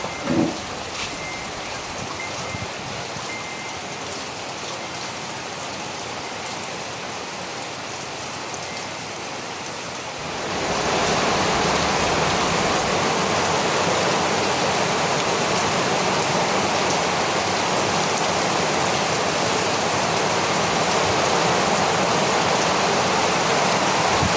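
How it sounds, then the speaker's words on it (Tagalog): Rain in a rural provincial setting, starting as a light patter and then swelling abruptly into a loud, dense, steady downpour drumming on surfaces that continues to the end. "Umuulan."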